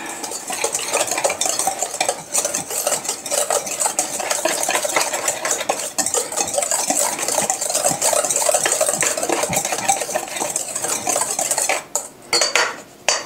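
Ingredients for keto butterscotch chocolate chip cookies are stirred in a bowl, a utensil scraping and clinking steadily against the sides for several seconds with a short pause near the end.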